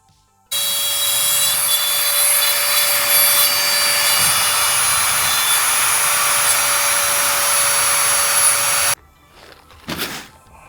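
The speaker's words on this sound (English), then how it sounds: "I actually had to pull out the trusty old Dremel in order to drill out a hole" A high-pitched Dremel rotary tool whines steadily for about eight seconds as it drills out a screw in a metal PC case, then cuts off, followed by a few brief handling noises.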